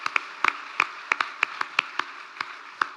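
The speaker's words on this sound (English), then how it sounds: "Give Levi another big round of applause." Sparse, rhythmic claps from a small audience applauding the performer Levi, about a dozen sharp hand claps spaced evenly and fairly close, with no talk over them.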